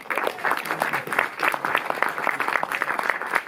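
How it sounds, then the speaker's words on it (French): A cinema audience at a film discussion in Paris applauds steadily, dense continuous clapping filling the room, with faint voices mixed underneath. "le grand Jean-Pierre Lavoignat, que vous pouvez applaudir"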